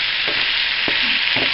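Ampalaya (bitter melon) cooking slowly over lowered heat in a pan gives a loud, constant hiss of frying oil, broken by a few brief stirring scrapes.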